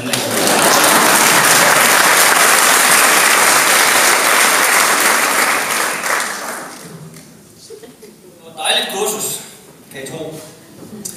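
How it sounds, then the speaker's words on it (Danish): A comedy show audience applauds loudly and continuously for several seconds, then the clapping thins out into scattered claps and fades as a voice begins to speak. "Prøv at klappe lidt mere, det er godt for mit selvværd."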